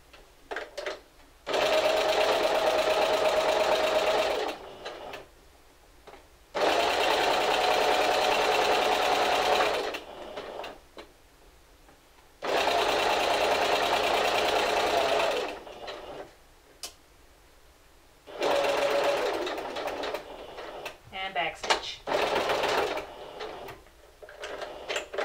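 A sewing machine runs in three long bursts and one shorter one, stitching a pocket onto a garment for Simplicity pattern 1562, with quiet pauses between runs and no talking.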